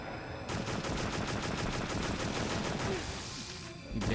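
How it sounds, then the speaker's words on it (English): Sustained rapid gunfire from the PS2 shooter Extermination, set in a lab, with dense repeating shots running loud and steady for about three and a half seconds before breaking off briefly. "Make sure you shoot the right spot. I think you could shoot them open"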